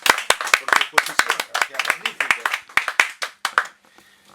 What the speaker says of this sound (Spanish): Se merece un gran aplauso, ¿verdad?